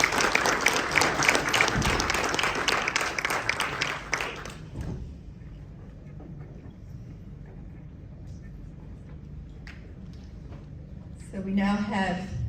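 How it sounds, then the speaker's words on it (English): Applause from an audience at a hacker presentation event rings out loudly for a few seconds, then fades to a quiet room hum before a voice begins speaking near the end. "I think another round of applause like that."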